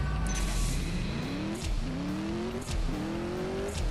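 Cars launch at the start of a race in the mobile drag-racing game CSR2, with engines revving steadily higher through several gear shifts and a faint tire squeal, loud and continuous, with no talking.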